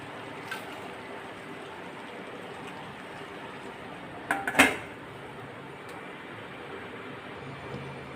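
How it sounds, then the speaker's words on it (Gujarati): A plate is set over a pan of spiny gourds to steam, giving a short clattering clink of dish on metal amid a quiet background hiss, near and brief. "હવે ઉપરથી આપણે સરસ એવી ડીશ ઢાંકીને સ્ટીમ થવા માટે રાખી દઈશું"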